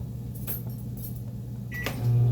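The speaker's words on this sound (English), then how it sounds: "I try not to use the microwave, but I do at times" A microwave oven hums steadily with a few faint clicks, then its low running tone grows louder near the end as it keeps operating, with no clear beeps.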